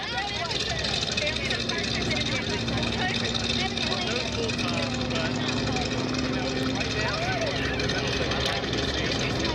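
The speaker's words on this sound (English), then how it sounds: "These are the basic aerobatic as being demonstrated by Air Force Reservist Dave Brown" Propeller airplane flying basic aerobatic maneuvers at the Culpeper Airfest airshow with a flying circus, a steady engine drone running throughout beneath a busy background of crowd chatter and an announcer's voice.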